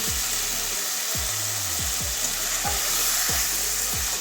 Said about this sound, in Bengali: এবারে ভালো করে কষিয়ে নেবো দু তিন মিনিট